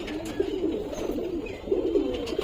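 A male loft pigeon coos in repeated low, rolling phrases, close and clear, with a short pause between bursts and no talking over it.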